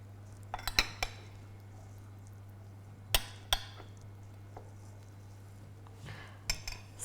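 A spoon scoops salsa onto a plate beside salmon, giving a few close, sharp clinks of metal on crockery in scattered bursts over a quiet, humming kitchen background.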